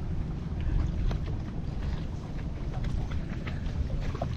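A small boat moves on clear water beside a dike, with a low rumbling wash of water and wind buffeting the microphone, steady and close, with no talk.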